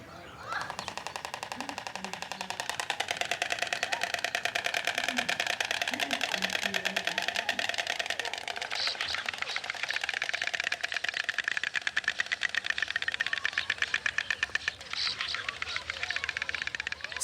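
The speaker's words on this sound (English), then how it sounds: "Storks clack their beaks at the end of their mating display" White storks in Rabat, Morocco clack their beaks in a mating display, a loud rapid wooden rattling that runs almost continuously and close by.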